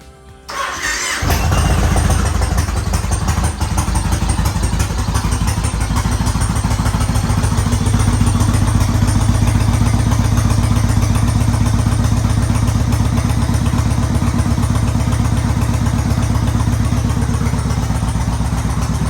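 A Yamaha Raider motorcycle engine fresh from an oil change, air filter and spark plug service cranks over and fires, then settles into a loud, steady, deep running rumble close by for the rest of the clip, with no talking.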